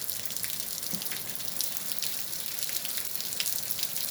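Heavy rain from a moderate-to-strong thunderstorm in Capestang, France, a constant dense hiss of falling water with scattered closer splashes and drips, no voices.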